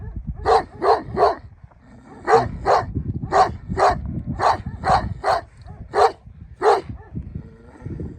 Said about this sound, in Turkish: Bak bir tane köpeğin burada. Bunun akşamleyin burayı nöbetçisidir.